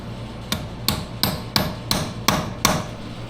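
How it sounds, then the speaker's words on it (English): A hammer strikes a chisel to bend a metal nut-keeper detent while installing a Terache 35% gear reduction on a Rancher, Foreman or Rubicon ATV: eight sharp, evenly spaced metallic blows, close and loud, over a low steady hum. "bend that little detent in, that little nut keeper with our hammer and chisel"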